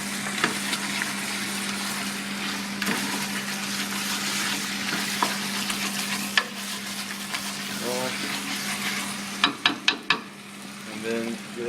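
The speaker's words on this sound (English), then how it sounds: "Now we can give it one last stir." Chicken curry being stirred in a hot pan, a steady sizzle with a low hum beneath it and occasional scraping clicks of the spoon, growing busier near the end.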